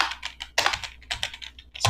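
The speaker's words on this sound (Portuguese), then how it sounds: "aqui na barra de formas eu vou digitar" Quick bursts of keystrokes on a computer keyboard, close and distinct, in a short uneven run of taps.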